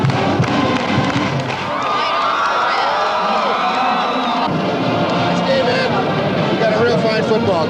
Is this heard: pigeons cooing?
no